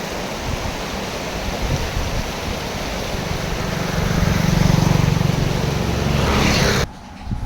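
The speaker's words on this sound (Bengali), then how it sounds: "এই জোরের উপর দিয়ে কীরকমভাবে জল বয়ে চলেছে" Strong water rushing and churning steadily in a village stream at Madhuban, Bankura district, a loud continuous roar that swells midway, then cuts off abruptly near the end.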